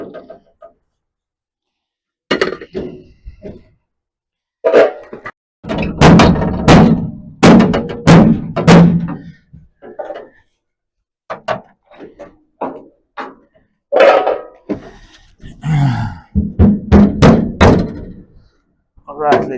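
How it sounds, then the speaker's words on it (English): Repeated hammer blows on a rusted 1937 Ford Coupe door panel, sharp metallic strikes in irregular clusters with short pauses between bursts. "open this door up a bit and hammer it a bit"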